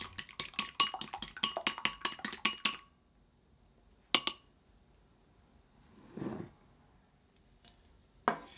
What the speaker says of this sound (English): Beat the egg and pour into a pan.